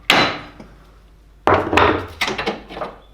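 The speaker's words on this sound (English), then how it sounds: "If we give it a couple of taps" Sharp metallic-wooden taps strike a Subaru Forester suspension part to knock it loose, one solid hit followed after a pause by a quick cluster of several more close-up knocks.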